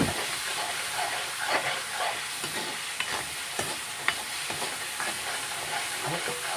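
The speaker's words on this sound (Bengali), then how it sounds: "আমার তেল গরম হয়ে গেছে এবার পেস্ট করা মশলাগুলো ছেড়ে দিলাম এখন মশলাগুলো কষাতে থাকবো" Spice paste sizzling in hot oil as it is stirred, a steady close frying hiss broken by scraping spatula strokes, for a fish-head and eggplant curry.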